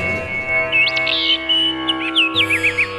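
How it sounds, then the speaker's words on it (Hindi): Birds chirp in quick rising and falling trills over a sustained music bed in a film about women's empowerment, the calls bright and repeated in short bursts. "पक्षियों का चहचहाहट"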